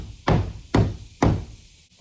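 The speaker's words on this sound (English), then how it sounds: "I need to finish knocking them in" Three steady, loud hammer strikes knock protruding nails into a DIY wooden shed, each a sharp close thud with a brief fading tail and no voices.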